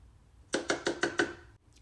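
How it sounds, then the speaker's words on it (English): Five firm knocks on a house door land in an even, quick rhythm. They are close and loud against a quiet background, and then stop. "so I knock again."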